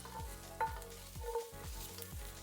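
Garlic and shallots sizzle in a pan that still holds crusty bits of seared swordfish, a steady close frying crackle broken by a few clinks and scrapes of stirring, with no voices.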